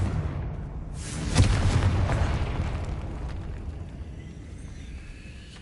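Confringo fire spell explosion in Hogwarts Legacy: a single deep boom bursts out about a second in, then a rumbling, crackling tail slowly fades under a steady game background.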